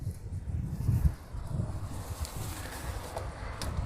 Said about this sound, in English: and now it gets all gusty on me.